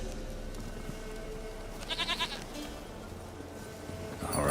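Goat in The Witcher 3: Wild Hunt gives a quavering bleat midway, a short wavering burst over steady ambient game sound, followed by a louder noisy swell at the end.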